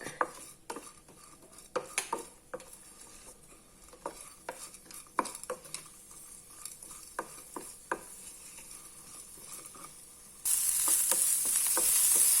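Clinks and scrapes of a spoon against a pan come in scattered bursts, then chopped onion hits hot oil and a loud, steady sizzle takes over for the final seconds.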